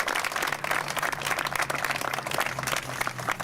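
A full round of steady applause from a crowd at an outdoor P Street ribbon-cutting news conference in Lincoln, dense and continuous with a low hum underneath.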